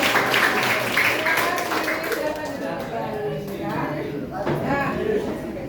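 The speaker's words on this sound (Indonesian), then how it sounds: "Oke, tepuk tangan buat kalian semuanya." Students clapping in a classroom, a brisk burst of applause with a teacher's voice talking over and after it.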